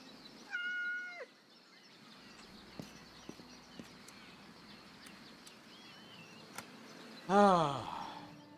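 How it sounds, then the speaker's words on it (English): A cat in the video game Kingdom Come meows while being petted, one short meow near the start and a louder drawn-out meow near the end, over a quiet background with faint ambient game sounds. "Pet the kitty!"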